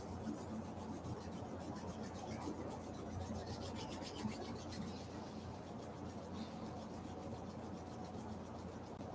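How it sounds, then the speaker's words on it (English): Steady dry rasping of two palms rubbed together during a breathing kriya exercise, continuous and close for the whole stretch, fairly quiet, with no talk over it. "Rubbing the left palm and the right palm together."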